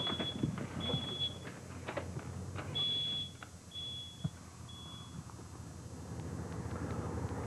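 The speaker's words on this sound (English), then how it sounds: "The smoke alarm went off" Smoke alarm beeping in a house during a fire escape drill, a series of sharp high-pitched beeps that come and go over background noise and movement, with no clear speech.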